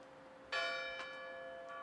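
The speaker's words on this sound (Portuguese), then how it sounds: "Dona Leopoldina, atenta ao dobre dos sinos, indaga com naturalidade:" Church bells toll as a sound effect in a Portuguese-language audiobook: two loud, resonant strikes about half a second apart, each leaving a long ringing hum that lingers, with no voice over it.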